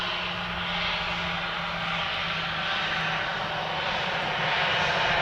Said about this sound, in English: Lots of fast taxiing over.